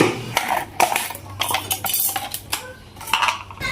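Scissors or a blade cutting through a thin plastic water bottle to remove its top and bottom, a busy run of crinkling, scraping and clicking plastic noises heard close up for a few seconds.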